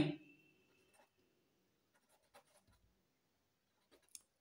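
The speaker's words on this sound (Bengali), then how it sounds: "তাই লিখব এখানে" A pen scratches on paper in short, faint strokes separated by pauses, close and quiet, with no talking.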